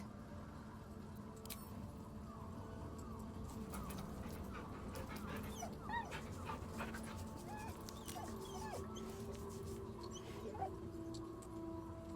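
A dog whimpers and pants softly in a fantasy video game, faint short cries over a low, constant ambient bed with no speech.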